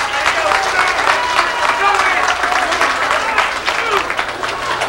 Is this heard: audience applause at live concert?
yes